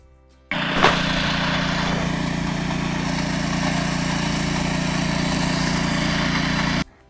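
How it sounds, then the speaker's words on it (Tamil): A small weeding machine's engine starts up abruptly and runs loud and steady in a farm field, a continuous mid-pitched mechanical drone that cuts off sharply at the end. "நாங்கள் வந்து களை வெட்டுறதுக்காக அந்த வண்டி வச்சுருக்கோம். அது மூலியமாக வெட்டிடலாம் அப்படின்ட்டு ஓட்டுறதுக்காக எடுத்துகிட்டு வந்திருக்காங்க."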